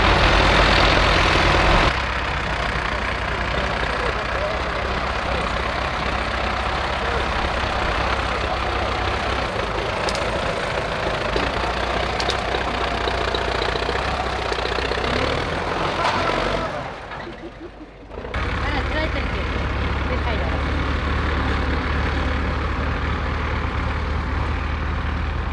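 Farm tractors working a tomato field give a steady engine drone with strong low rumble, running continuously at moderate distance and briefly dropping away near the end before returning.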